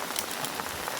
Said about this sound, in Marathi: पाऊस फुल पडतोय